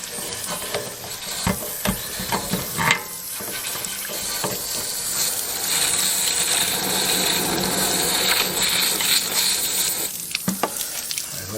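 Water rushes steadily from a camper's hot water tank being flushed with a flush wand, a continuous hissing splash with a few brief knocks and clatters along the way.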